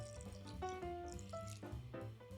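Room-temperature water poured into a bowl of mixed egg, margarine and milk for a dough, a quiet trickling fill with a faintly changing pitch.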